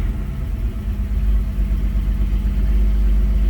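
An AMC 199ci car engine, prone to a slight off-idle stutter and bog, rumbles loudly as it is revved under hard throttle, a deep, sustained close-up roar with no talk.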